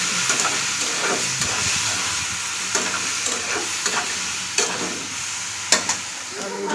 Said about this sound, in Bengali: আদা রসুন টমেটো পেস্ট দিয়ে ভাজা ভাজা করে নিচ্ছি